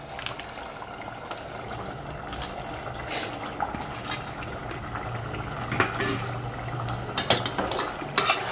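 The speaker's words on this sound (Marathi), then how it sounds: "आणि आता आपण टाकून घेऊया मटण" Mutton goes into cooked masala in a pot for mutton tambda rassa, bringing a low sizzling bubble with scattered spoon and pot clatter and a few sharper knocks, close and moderately quiet, with no speech.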